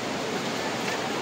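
A flooded village river rushes past during rain, making a steady broadband roar with no pauses, heard close and fairly loud with no talking.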